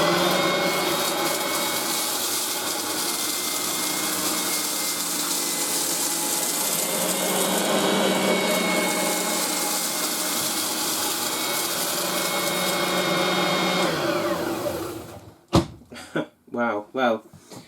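Oreck XL7 upright vacuum cleaner running on a kitchen floor in a small space, a loud, steady motor whine and rush for about fourteen seconds that cuts off, followed by a few bumps and knocks.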